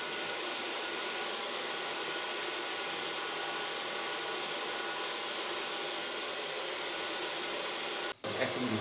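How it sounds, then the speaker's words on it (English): Steady, loud hair dryer airflow runs almost the whole time as short hair is blow-dried after a platinum colour, with a brief cut-out near the end. "So now I can blow dry the hairs."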